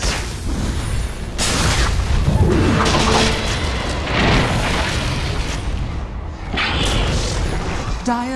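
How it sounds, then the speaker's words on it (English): The middle tower in Dota 2 crumbles amid loud, repeated booming blasts and crashing debris, a dense, sustained barrage that surges several times, with a voice speaking over it. "Dire's middle tower has fallen."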